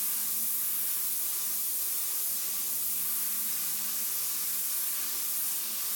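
An airbrush sprays paint onto a custom ripped-fire panel, a steady, continuous airy hiss that stays close and even throughout with no pauses.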